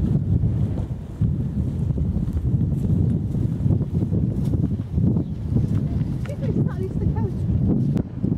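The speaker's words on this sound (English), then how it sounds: "Very windy up here, so probably poor sound quality." Strong gusting wind on an exposed hilltop near Lewes buffets the microphone with constant low roaring rumble throughout, with a person talking faintly underneath.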